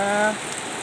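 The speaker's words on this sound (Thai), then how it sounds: "ฝนตกรินนะคะ" Steady rain falls outdoors during an all-night downpour, a brief hiss of drops on surfaces that follows a short tonal sound at the start.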